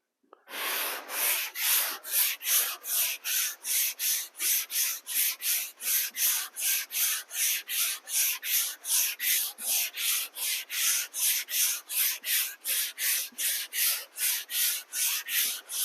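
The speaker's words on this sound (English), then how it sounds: "You want to mix up the sanding patterns." Sandpaper rasps across dried drywall joint compound in quick, even back-and-forth strokes, close and steady, repeating rhythmically for several seconds with no talking.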